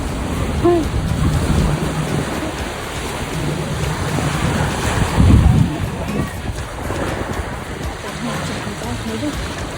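Steady roar of wind and surf at Bonita Springs beach on the Florida coast, loud and continuous with buffeting gusts on the microphone and a faint voice beneath.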